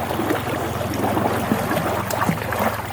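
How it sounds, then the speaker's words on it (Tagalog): A strong river current in a rural province rushes with a continuous broadband wash, steady and close, with no voices heard. "Lakas ng agos."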